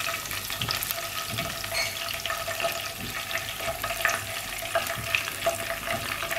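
Water poured into a pan of frying onions sets off a steady, crackling sizzle with stirring scrapes, part of a catfish and green banana curry being cooked, with no one speaking.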